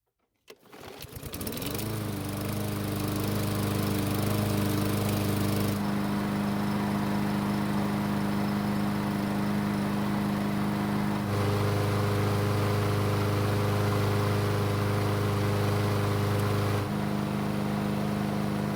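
A Yard Machines lawn mower engine starts from cold, catching after a brief crank and settling into a loud, steady close-up drone that runs on alone with a few small shifts in pitch.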